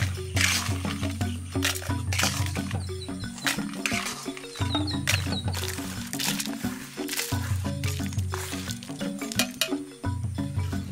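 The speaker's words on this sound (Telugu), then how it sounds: "ఇప్పుడు ఇవన్నీ తీసి మిక్సీ జార్లో వేసుకొని" A mixer grinder jar grinds roasted dried red chillies and spices into powder for village-style gongura chutney, giving a loud whirring roar that runs in bursts with short pauses between them.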